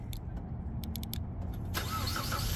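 A 2019 Ford Explorer engine starting by remote start on the key: a few faint clicks over low rumble, then the engine catches with a sudden louder burst and settles into a steady idle, close by.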